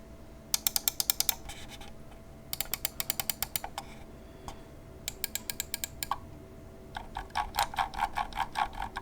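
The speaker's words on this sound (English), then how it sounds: "the mouse wheel has a super nice tactile scroll as well" A Logitech G203 LightSync mouse wheel is scrolled close up. Each run is a quick series of sharp tactile clicks, and several runs are separated by short pauses. The final stretch is slower and more ratcheting. Nobody speaks.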